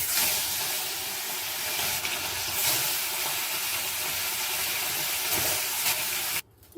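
Katla fish fries in hot oil with a steady, loud broadband sizzle that holds evenly for several seconds, then drops off abruptly near the end.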